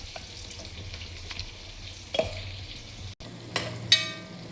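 Onions frying until golden brown for a raw jackfruit biryani, a steady close sizzle under occasional scraping stirs and a brief clink of utensils, with a short dropout near the end.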